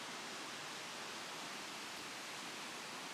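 A waterfall on the Pacific Crest Trail gives off a steady, broadband rushing roar. The roar is continuous and even, heard alone without voices.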